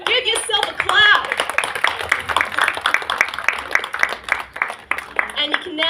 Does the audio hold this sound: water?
no